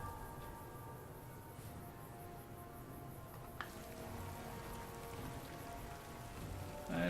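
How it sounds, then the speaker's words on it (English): Steady rainfall in the Fallout: New Vegas Honest Hearts expansion, a soft continuous patter with a couple of faint sharp ticks, low and even across the whole stretch. "And it's gonna rain again."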